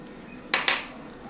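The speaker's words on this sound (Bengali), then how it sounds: "আর এখন দিয়ে দিচ্ছি শুকনা মরিচগুলো" Dried chillies tipped into a pot for a raw mango Kashmiri pickle, giving two quick close clinks against the pot a moment apart, then quiet.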